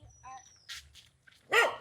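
A dog on a Kochi island barks and yips in a few short bursts, close and fairly loud, with brief gaps between and a faint voice nearby.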